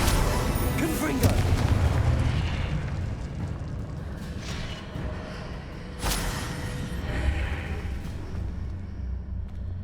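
Booming fire-spell explosions in Hogwarts Legacy: a heavy rumbling blast near the start, then another burst around the middle, set over continuous loud game battle noise with no speech.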